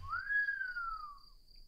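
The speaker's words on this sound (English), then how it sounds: "I whistled." A single smooth whistle in the video game Asagao Academy rises, holds, then glides downward, clear and alone over a faint steady high tone.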